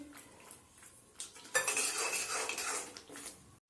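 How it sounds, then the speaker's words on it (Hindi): A spoon scrapes and clinks against a pan while cream and kasuri methi are mixed into a paneer korma masala. It starts soft, swells into a dense, busy stirring burst, then tapers off. "इसको मिक्स कर देंगे अच्छी तरीके से।"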